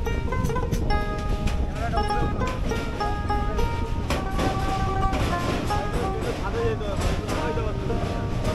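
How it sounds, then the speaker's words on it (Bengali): Passenger train rolling through the forest of Jaldapara National Park in the Dooars, North Bengal, a steady dense rumble with wind noise throughout, a high tonal whine above it and talk over the top. "এই মুহূর্তে জল্লাপাড়া ন্যাশনাল পার্কের মধ্য দিয়ে রেল ছুটছে আমাদের"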